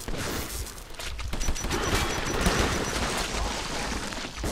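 Gunfire rattles in the video game Metro 2033 as rapid bursts of shots and impacts over a noisy battle background, loud and close, with no clear speech.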